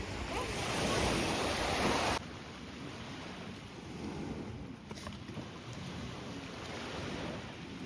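Sea surf washing onto the shore beside a resort in Turkey: a steady roar of waves with wind buffeting the microphone, loudest for the first couple of seconds, then a slightly softer, continuous wash.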